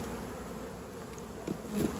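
Honey bees buzz steadily during a beehive inspection, a dense continuous drone with a few louder passes close by near the end.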